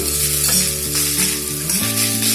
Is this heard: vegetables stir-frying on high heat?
yes